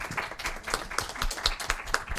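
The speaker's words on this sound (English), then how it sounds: "Let's have another round of applause for" Audience applause at a press conference for a citizens' rights campaign, moderate clapping from a roomful of people, steady and fairly close, lasting a couple of seconds.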